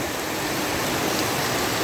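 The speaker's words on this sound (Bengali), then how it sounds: "প্রচুর বৃষ্টি হচ্ছে মুসলধারে বৃষ্টি হচ্ছে" Steady, dense rush of heavy rain pouring down, loud and continuous with no voices.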